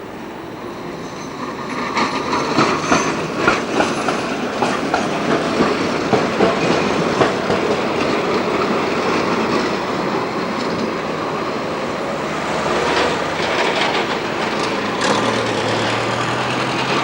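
A Budapest tram, seen in 1989, rolls over the rails with steady rumbling and rhythmic clattering of wheels on the track, loud and close, with a faint squeal of wheels toward the end.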